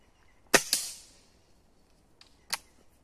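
Two sharp snapping shots in quick succession from a Gamo Whisper X air rifle, followed after a pause by a third crisp crack, each short and percussive against near silence.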